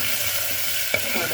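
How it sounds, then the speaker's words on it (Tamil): Mustard seeds and onion frying in oil, a close, continuous sizzle with a brief stirring clack near the end, no voices. "கடுகு வெங்காயம் ஒரு கப்பு சேர்க்குறேன். கொஞ்சம் எண்ணெயில் வதங்கிட்ட பிறகு"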